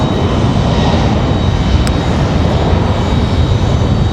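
FedEx Boeing 767 jet arriving at Raleigh-Durham airport, a loud, steady broadband engine roar that fills the whole stretch without letting up, with no voices over it.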